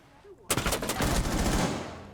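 A short burst of rapid automatic gunfire from a video game gun crackles loudly right after a brief quiet moment, continuing as one fast, dense volley.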